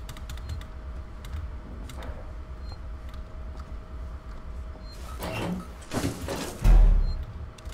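Keys tapped on a computer keyboard with an unresponsive spacebar, scattered light clicks followed by a burst of harder presses and a thump near the end.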